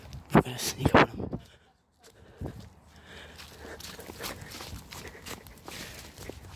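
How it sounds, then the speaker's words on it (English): Footsteps of a character walking around in a video game, soft and irregular under a continuous background rumble, with a few louder thumps near the start. "I can hear him walking around."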